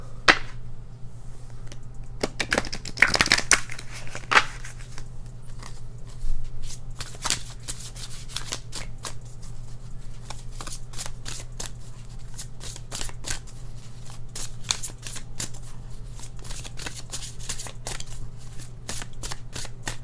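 Oracle cards from a dream oracle deck are shuffled by hand in a long, continuous run of riffling, rustling card sounds with a steady low hum underneath, close and unbroken, with no talking.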